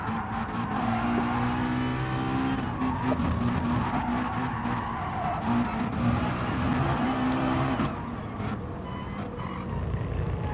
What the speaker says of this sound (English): Sounds like a really pumping the throttle, feathering the throttle through those corners.